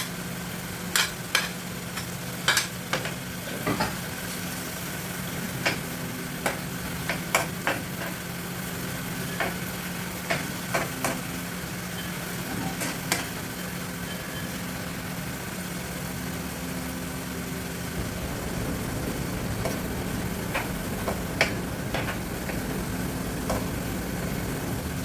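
Onion added to chicken frying in a pan for kinamatisang manok, a steady low sizzle with scattered sharp clicks of stirring, over a constant low hum.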